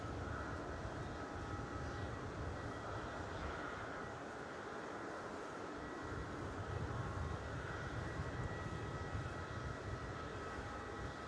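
A 14.5-year-old Boeing 737-8 jet at Melbourne Airport gives a steady, continuous engine roar at moderate distance that holds at even loudness throughout, with broad rumbling noise and no speech over it.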